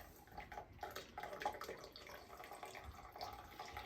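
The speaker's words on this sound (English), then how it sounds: "And it pours nice and slow because we got the raspberries all muddled up in there." Raspberry cocktail with muddled fruit pouring slowly from a shaker into a champagne flute after crushed ice is dumped, a steady trickling liquid stream with small splashes, close and fairly quiet.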